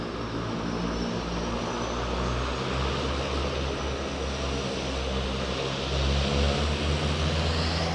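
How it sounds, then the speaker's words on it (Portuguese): A seaplane's propeller engine drones steadily nearby as it taxis across the water, a constant low rumble with a slight swell near the end. "É um avião na água. Já tá estacionando."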